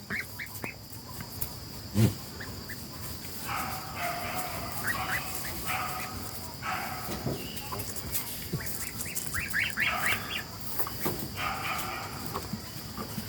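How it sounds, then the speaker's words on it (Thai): Scattered honking calls from several geese, some in quick clusters, mixed with broad background noise and an occasional low thump outdoors. "หัวน้อยไม่เคยได้ยินเสียงห่าน"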